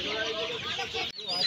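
Sonali and desi chickens at the Uluberia hen market, brief close clucking and squawking from several birds amid faint market chatter.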